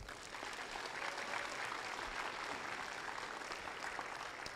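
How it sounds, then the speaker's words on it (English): Audience at a robotics qualifier awards ceremony gives a steady round of applause, dense clapping that holds at moderate distance for several seconds. "Let's give them a big round of applause for their dedication."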